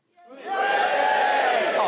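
A studio audience at a TV panel comedy show breaks into a sudden loud roar of cheering and shouting. It swells quickly and holds steady and close for almost two seconds.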